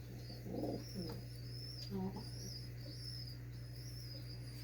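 Pigeons in a loft coo softly in a few low, brief bursts at close range, against a steady background hum and faint high chirping.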